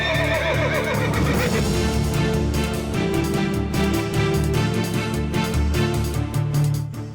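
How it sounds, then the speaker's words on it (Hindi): A horse in a Hindi mythology TV drama whinnies loudly over a dense, continuous score of music and ambience, with faint hoof clip-clop mixed in and no talk. "आपने कहा था ना सिद्धेश्वर हमेशा घोड़े पर जाता था, अब यही हमें राह दिखाएगा"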